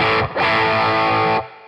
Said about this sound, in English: Again, I have a drive pedal